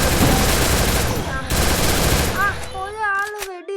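Rapid automatic gunfire bursts loud and dense in the Free Fire battle royale game, ending in short electronic tones and effects as the shooting stops.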